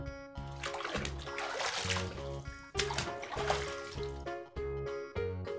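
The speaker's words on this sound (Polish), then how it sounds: "Wanna." Water splashes and sloshes in a bathtub, bursts of wet noise recurring over a steady musical background with no talking.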